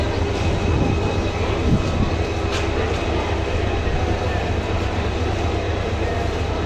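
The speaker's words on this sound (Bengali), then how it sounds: "এই মুহূর্তে যে ট্রেনটি এসে পৌঁছালো" A loud, steady rumble of a train arriving at a station fills the air, a continuous heavy roar with faint metallic squeals above it.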